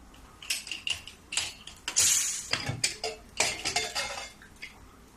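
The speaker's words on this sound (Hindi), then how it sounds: "देखो मैं एक चूल्हे पर से कुकर नीचे उतार देती हूँ।" A pressure cooker being lifted off a gas stove in a home kitchen, with close metallic clanks, scrapes and rattles of the pot and burner grate in irregular bursts, no talking.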